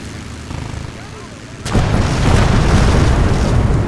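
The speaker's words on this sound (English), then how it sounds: "Airstrike underway! Angels on our shoulders! Fuck it. These bombs are awesome." Airstrike bombs in the WWII strategy game Gates of Hell: Ostfront, a sudden loud explosive blast followed by a sustained heavy rumble of detonations, with aircraft noise before it.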